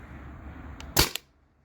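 Single sharp pneumatic shot from a Tippmann TiPX paintball pistol running on an 800 psi high-pressure air tank, a short crack with a quick echo tail, close and alone with no talk.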